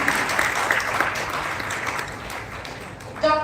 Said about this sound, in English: Let's have a big round of applause for the guest of honor.